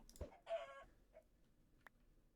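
Chickens in a Minecraft-style survival game give a few short, separate clucks and squawks, the loudest near the start, then fainter calls and a brief final chirp over near silence.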